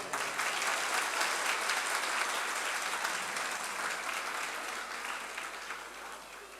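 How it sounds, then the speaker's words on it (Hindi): A school audience claps for its teachers in a continuous, fairly soft wash of applause that tapers off gradually toward the end. "उस्तादों के लिए इतनी कम तालियां नहीं"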